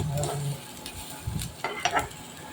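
Chopped onions and tomatoes sauté in a pan, a close, steady sizzle broken by a few scraping stirs, with no talk.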